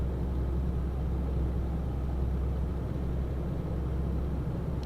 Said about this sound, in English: I love how this truck's come to overtake here and it's struggling to do something